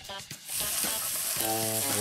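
Onions frying in two to three tablespoons of olive oil for a mushroom risotto, a steady close hiss and crackle that swells after the first half second and continues loudly, with brief tonal sounds in the background.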